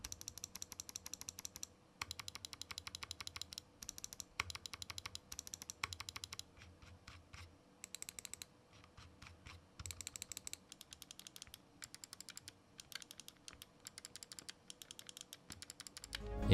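Rapid runs of small, crisp plastic clicks from the buttons of an Abko MG10A magnesium-alloy gaming mouse sound close-up, coming in quick bursts separated by brief pauses.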